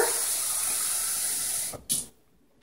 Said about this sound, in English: I'm going to throw in 1 can of beef broth and a can of water